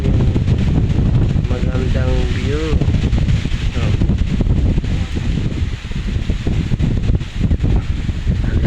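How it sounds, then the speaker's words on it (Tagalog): Loud, constant wind buffets the microphone in a heavy roar on a mountain, with a voice heard briefly under the gusts. "lakas pa ng hangin"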